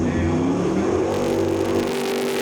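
A jet sprint superboat engine at the New Zealand Jetsprints round in Waitara roars hard and steady around the circuit, loud and close, with a brief rise in pitch near the middle.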